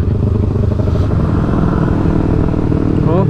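A motorcycle on an open road revs up under throttle, its dense rumbling engine note loud and close for the whole stretch, steady and rough, with a slight rise near the end.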